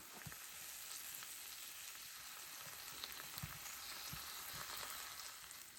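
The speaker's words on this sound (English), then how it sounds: "that water's boiling like crazy" Water bubbles and sizzles steadily in a pot of noodles on a stove inside a hot tent at a camp, a soft continuous hiss with faint scattered pops and no talking.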